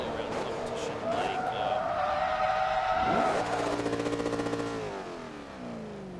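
A race car's engine revs loudly in the Forza video game, rising to a sustained high-pitched whine, then dropping sharply as it shifts, with tire skids and speech-like chatter mixed in over the steady game mix.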